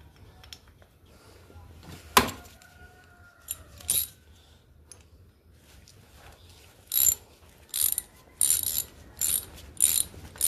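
Ratchet tightening cylinder head bolts on an AMC 290 V8 engine, a sharp clack followed by several short bursts of rapid ratcheting clicks, close and fairly quiet.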